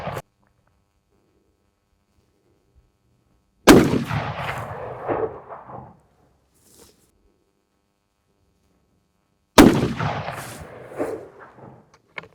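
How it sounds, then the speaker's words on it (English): Two loud, close rifle shots from a Seekins PH3 rifle fired at targets outdoors, each a sharp crack followed by a long rolling echo, separated by several seconds of silence. "All right, let's shoot."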